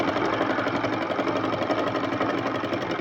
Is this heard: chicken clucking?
no